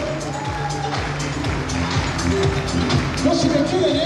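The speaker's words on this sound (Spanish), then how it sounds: "un aplauso grande a los chicos de décima" Applause and crowd noise for the tenth-division kids at a Unión Santa Marina gathering: a steady, dense wash of clapping and cheering from a large audience that holds at an even level throughout, with voices mixed in.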